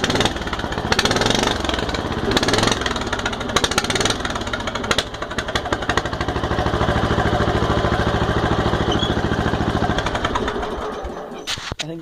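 A lawn mower tractor engine fitted with an exhaust stack runs steadily and loudly up close, its rough, pulsing idle continuing throughout with a few brief revs early on and a slight drop near the end.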